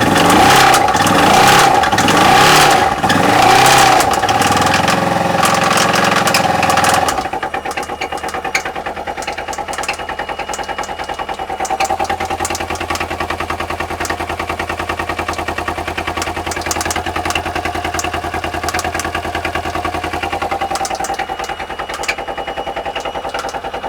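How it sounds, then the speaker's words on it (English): A Streetfighter motorcycle build fires up and runs loud and close, its engine chattering with a rattling top end, a dense rough idle that settles into a steady, slightly uneven drone. "there's some very interesting rattling sounds coming out of that top end"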